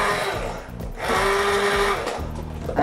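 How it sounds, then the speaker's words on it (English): A hand blender whirs loudly while pureeing cooked lentil soup with vegetables, its motor pitch dipping and rising in bursts over roughly three seconds. "I blend the soup with the vegetable as much"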